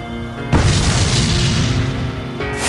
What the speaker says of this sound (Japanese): チッ、爆発が近い。